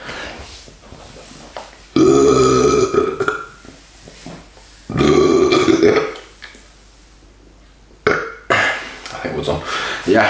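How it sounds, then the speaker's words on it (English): Loud, drawn-out burps after drinking Svyturys Balta wheat beer, three in a row: two long rumbling belches near the microphone, then a shorter one with some chatter-like noise at the end. "it makes me burp."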